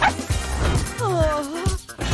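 A dog chewing doll hair gives short barks, yips and whimpering whines. The sounds are close and fairly loud, with no speech.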